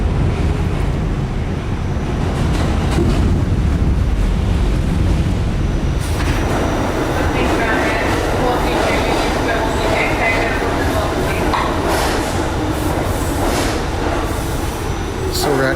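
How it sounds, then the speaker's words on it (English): A New York subway train rumbles across the Manhattan Bridge, a loud continuous roar of wheels and rattling cars with the noise growing harsher partway through, and a voice faintly under it. "the subway's kind of noisy"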